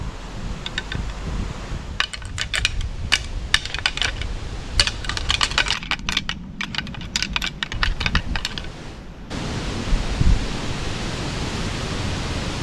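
Irregular clicking and clattering bursts of deer antlers knocked and ground together to call bucks rattle over steady outdoor wind noise, then stop abruptly.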